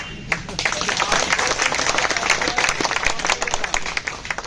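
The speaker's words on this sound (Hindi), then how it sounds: "तो अभी ये कमजोर ताली है," Weak, scattered applause from an audience, dense clapping running steadily through the clip with some background voices mixed in.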